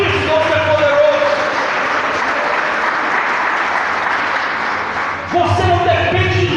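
An evangelical church congregation applauds loudly and steadily, a dense wash of clapping filling the room throughout, with a voice rising over it near the end.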